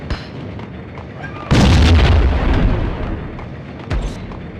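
A heavy grenade blast from the 2001 PS2 game Max Payne erupts loudly, leaving a rumbling decay, with a second smaller burst near the end over quiet background.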